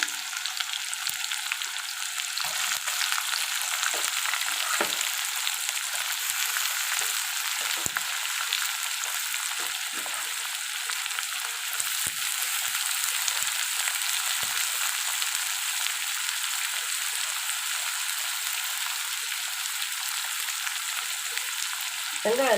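Onions fry in a pan as the base for a country chicken gravy with pepper and coriander leaves, giving a steady, loud sizzle throughout with a few faint scrapes.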